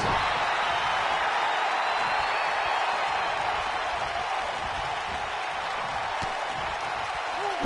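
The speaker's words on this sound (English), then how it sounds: "The crowd never gets tired of The Rock's antics" A wrestling arena crowd roars in a steady, dense wash of cheering and applause that holds throughout at an even level, with a commentator's voice faintly woven in.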